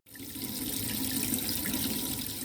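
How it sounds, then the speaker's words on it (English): Hot water gushes from a tap in an off-the-grid cabin, starting abruptly and running as a loud, steady stream into a sink with no talk. "We now have hot water, hot running water in our off-the-grid cabin"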